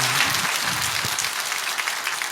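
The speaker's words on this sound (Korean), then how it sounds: "박수하겠습니다." Audience applause at a gathering, a dense wash of clapping heard steadily for a couple of seconds with a faint murmur of voices underneath.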